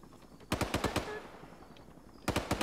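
Machine gun fire in the military shooter game Arma 3: two loud rapid bursts of about five shots each, separated by a quieter stretch of low background rumble, with no talking.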